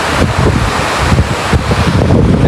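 Steady wind buffets the microphone on the open Marine Drive seacoast, with a constant roar of surf and waves underneath, loud and close throughout with no voices.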